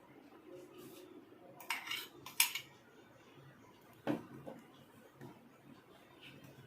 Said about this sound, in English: Next, add 2 beaten eggs to this mixture.